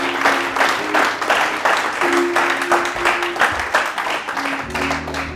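A church congregation claps together to acclaim Christ as king of kings, with rhythmic applause filling the whole stretch and a sustained musical tone underneath.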